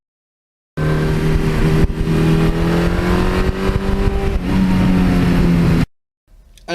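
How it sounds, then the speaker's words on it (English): Engine of a 1982 Suzuki GS1100E motorcycle idling and revving through its exhaust, a loud, steady, close rumble with shifting pitch for about five seconds, then cutting off abruptly into near silence. "the sound that comes out of the engine is just beautiful"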